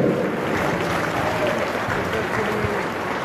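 Steady applause fills a packed sports hall at a Lega political rally in Scandicci near Florence, a dense, even roar of clapping with crowd noise that holds throughout.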